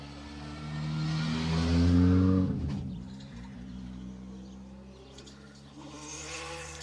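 Rally car on an asphalt stage at the Manx National Rally, engine revving hard as it approaches and passes close by, then fading away, with faint birdsong in the quieter background.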